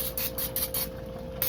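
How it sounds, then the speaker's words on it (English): Olive oil cooking spray hisses onto a baking pan in a series of short, close bursts, about six quick sprays in a row. "what I got is some olive oil spray"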